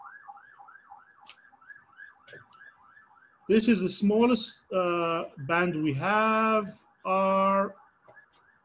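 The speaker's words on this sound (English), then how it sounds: "You can hear an ambulance in the background." An ambulance siren wails in the distance in an urban area near a bird observatory, a faint, rapid rising-falling warble repeating steadily before people begin talking up close and cover it.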